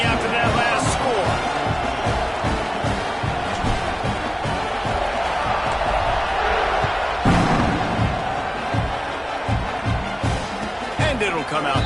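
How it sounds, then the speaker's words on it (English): Stadium crowd in College Football 26 buzzes steadily throughout an Alabama at Oklahoma game, a loud, dense roar with occasional thumps and swells, under a commentator calling the kickoff. "this crowd is buzzing after that last score."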